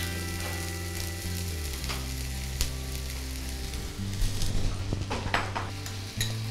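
Spring onions fry in hot oil in a pan for a Maharashtrian jhunka, giving a soft, steady sizzle with a low hum underneath and a few light utensil clinks near the end.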